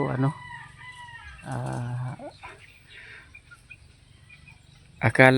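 A rooster crows loudly and close by, with harmonic calls rising and falling, followed by quieter background sounds and another burst at the end.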